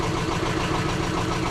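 Diesel engine on a sailboat running steadily, a close, even mechanical chug and hum with constant vibration and no talk over it.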